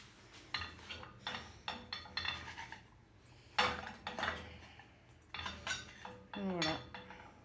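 Knife slicing through a freshly cooked cheese naan, giving a few short crisp scraping and clinking strokes against a plate, close and fairly quiet with pauses between cuts.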